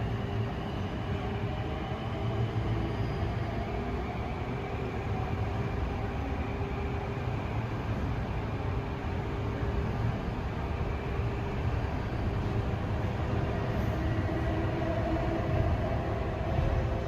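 An LIRR M9 electric train stands at a station on the Main Line, heading from Penn Station to Ronkonkoma. It gives a steady, continuous idling rumble and hum that stays even throughout, with no speech.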